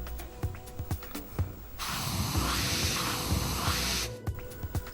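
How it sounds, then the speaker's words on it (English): Air hisses strongly and steadily from a tyre's beadlock air channel valve with its core removed. The loud, even rush lasts about two seconds between quieter background clatter. "Then remove the air channel valve core and check for airflow."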